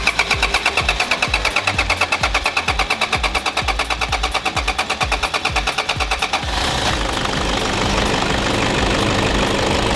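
A remapped Toyota Hilux Vigo 2.5 engine idles nearby with a loud, rhythmic knocking pulse. Partway through, the pulse smooths into a steadier, denser hum.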